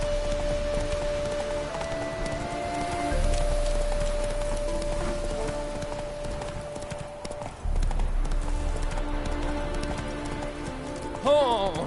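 Roach, Geralt's horse in The Witcher 3: Wild Hunt, gallops with steady, quick hoof clip-clops over rain and ambient game music, moderately loud and even.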